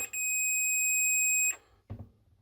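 A steady high electronic beep from a multimeter continuity test across a thermal breaker, continuous for about a second and a half, then cut off, followed by a brief soft clunk.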